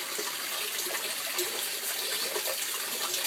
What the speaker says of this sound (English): Overflow drops down inside.